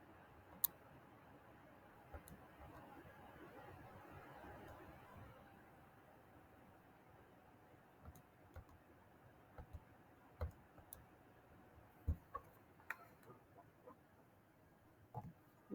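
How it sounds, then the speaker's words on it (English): Calculator keys tapped to enter numbers for an arithmetic sequence formula, giving a run of faint, sharp clicks at irregular intervals that grow denser near the end over a quiet low background. "Let me type this in."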